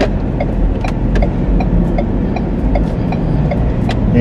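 A car moving through slow traffic in Cavite, with a low steady engine rumble and road noise from inside the cabin, light regular ticking on top, no one talking.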